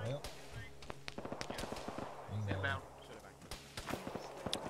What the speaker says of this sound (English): Some machine gun!